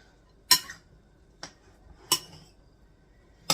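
Utensil clinks and scrapes while broccoli, rice, cheese and chicken are mixed together for a casserole, four separate sharp taps spaced about a second apart, close and fairly quiet with no talking.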